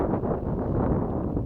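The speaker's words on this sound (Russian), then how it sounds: "Опять нас поднялся ураганный ветер, как обычно, в 8" Strong hurricane-force wind buffets the microphone on a fishing outing, a steady loud roar of broadband rumble with no talking.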